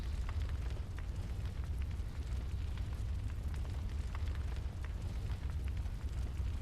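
A low, steady roar of fire burning in the Hunter's Dream in the video game Bloodborne, a dense continuous rumble with faint crackles and no voices.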